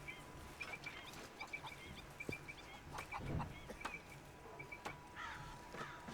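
Chicks and chickens, pullets and cockerels mixed, in the Red Dead Redemption 2 video game, cluck and cheep in short scattered bursts over a faint outdoor ambience, with one louder rough call midway.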